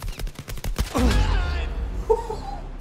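Gunshots in the PSVR video game Blood & Truth: a quick burst of sharp shots over the first second, then a dense, rumbling mix of game effects that lingers while a man reacts excitedly.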